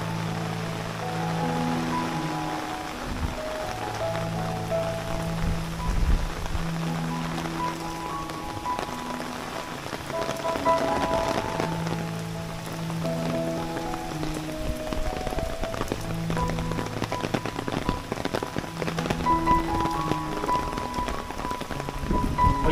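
Rain falls at Bamboo & Bricks Resort in Panshet, a continuous patter on surfaces heard alongside steady tonal music-like sounds for the whole stretch.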